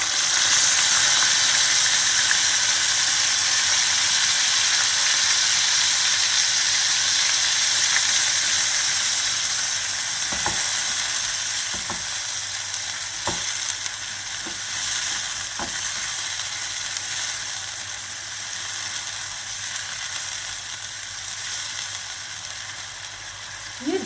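Onion, tomato, garlic and ginger paste sizzles in a hot pan for a kala chana gravy, a loud, steady frying hiss throughout with a few sharp clicks of stirring partway through.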